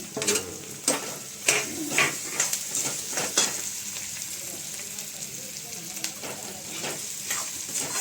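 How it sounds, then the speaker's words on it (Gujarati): Onion and potatoes sizzle in a hot pan while being stirred, a steady frying hiss punctuated by scraping and clinking of a spoon against the pan. "હવે આ ડુંગળીને સારી રીતે સટાડી દેવાનું, પછી આ બટાકા બી નાખી દેવાના"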